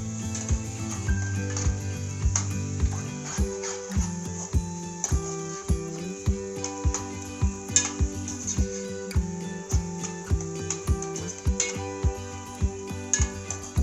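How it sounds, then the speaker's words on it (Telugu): Egg and vegetables being stir-fried in a pan for schezwan noodles: a spatula clacks against the metal in a steady, regular rhythm over continuous background music. "దీన్ని ఇట్లా కలిపేసుకుని ఈ వెజిటేబుల్స్తో పాటు బాగా కలిపేసుకోవాలి"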